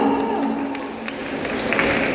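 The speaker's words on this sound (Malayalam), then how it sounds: "ഒരു കൈയടി തരോ?" Audience at an actress's public appearance in Calicut applauding: a steady wash of clapping and crowd noise under a sustained tonal hum, with a few sharper claps standing out.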